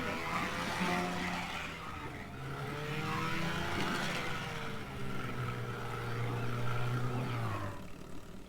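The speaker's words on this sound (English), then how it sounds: "Drive vehicle. Oh, this is a speedboat, isn't it?" A speedboat engine in a teardown video game drones and revs, rising and falling in pitch at moderate volume, with a low hum beneath.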